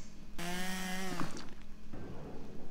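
Drill in the video game Henry Stickmin starting with a sudden loud mechanical whir that holds steady for about a second, then winds down and stops, leaving a noisy grinding tail.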